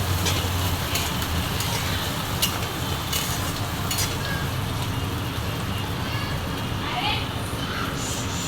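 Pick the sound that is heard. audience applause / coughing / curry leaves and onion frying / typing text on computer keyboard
curry leaves and onion frying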